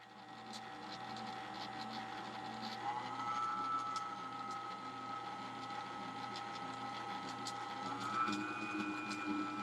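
An electric mixer runs steadily while whipping 35% cream into butter, a continuous mechanical whir with a clear shift in pitch partway through as the speed changes, close and alone with no talk.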